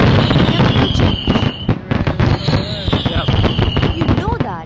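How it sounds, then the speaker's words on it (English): Fireworks explode in a rapid, dense barrage of loud cracks and bangs, with whistling shells rising between the bursts, heard close and continuous. "Explosion of firework is a chemical change."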